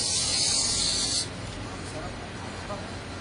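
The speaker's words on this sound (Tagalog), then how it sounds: "Kailangan natin gamitin ang body spray." An aerosol can of body spray releases a loud, steady hiss for just over a second, then cuts off, leaving quiet room noise.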